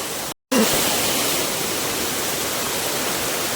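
Waterfall near Dapoli at Bandhtivare, a loud continuous roar of falling water, close and even, broken by a short silent dropout near the start.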